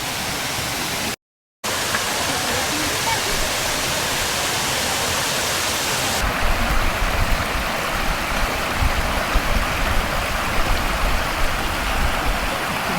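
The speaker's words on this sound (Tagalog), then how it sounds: "Mayroon palang falls dito," A waterfall in Tsurumi Park, Osaka, rushes steadily in a dense, even wash of falling water that stays loud for the whole stretch, with a brief dropout near the start and a slightly heavier roar in the second half.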